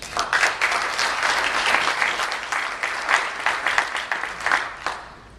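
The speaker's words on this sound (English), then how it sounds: "Please give them a round of applause." A breakfast audience of life science executives applauds, close and lively, with distinct clap bursts rising and falling unevenly through a sustained round of clapping.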